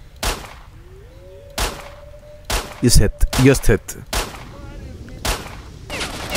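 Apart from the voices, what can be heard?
shotgun firing in the video game S.T.A.L.K.E.R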